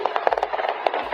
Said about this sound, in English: Gunfire, screams